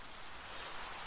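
Steady hiss of rain in the video game Minecraft, a soft continuous wash of falling drops with no breaks, fairly quiet and heard alone.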